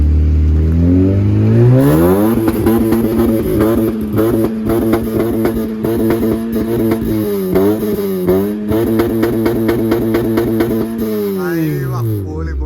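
A modified car engine fires up and revs repeatedly, rising and falling in pitch with loud, close throttle blips over about ten seconds before settling back down.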